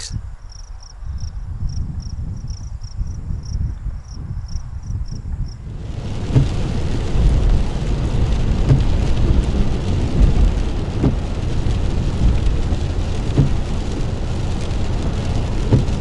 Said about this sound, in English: It has been raining since yesterday evening